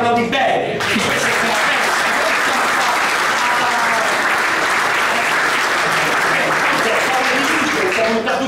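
Loud, sustained audience applause fills a press conference hall, a dense wash of many hands clapping continuously throughout.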